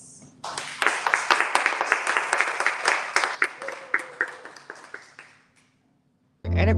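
Applause from a conference audience for the next speaker at a book event in San Francisco, a dense run of claps that thins and fades out over several seconds before a brief sound at the end.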